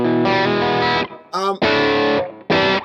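Distorted electric guitar driven through an Ibanez Tube Screamer-style 808 overdrive pedal, with a thin, fizzy tone; sustained chords ring in three loud bursts separated by brief gaps and a short higher-pitched phrase.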